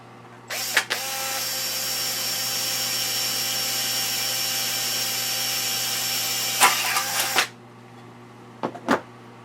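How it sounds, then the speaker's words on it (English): A high-pitched electric drill whines steadily for several seconds drilling a hole during Piper Super Cub wing and landing light assembly, then stops, followed by a few short clicks and taps. "Drill my second hole."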